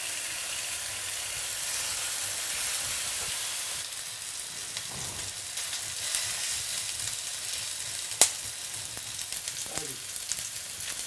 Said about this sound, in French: Une fois que ma poêle est bien chaude, je viens disposer